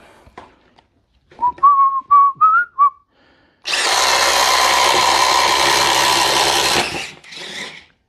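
After a few short whistles, a cordless drill in drill mode with a 4 amp hour battery whirs loudly and steadily for about three seconds, spins down, then briefly runs again.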